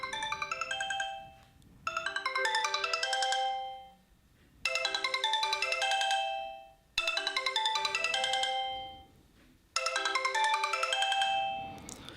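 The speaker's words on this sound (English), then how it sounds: "if we play the ringtone." A Sony Xperia M ringtone plays a bright melodic tune in repeated bursts, about five phrases separated by short pauses, loud and close.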